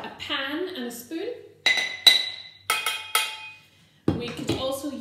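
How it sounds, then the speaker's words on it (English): A metal pan is struck with a spoon as kitchen percussion, about five sharp ringing hits spaced apart that decay into resonant tones, after a person speaks at the start. "we could use lots and lots of things from our kitchens to make a percussion instrument. For example, a pan and a spoon."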